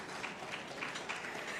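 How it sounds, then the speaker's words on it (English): Applause from an audience at an industry conference, fairly faint and distant, a soft patter of many hands clapping continuously for a moment. "another round of applause for this plan."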